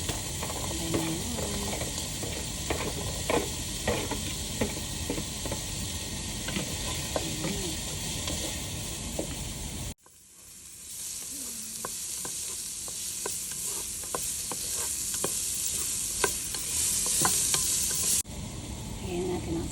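Celery and carrots sauté in a pot of oil for chicken sopas, a soft steady sizzle broken by repeated scraping stirs, with a short cut midway and no talk.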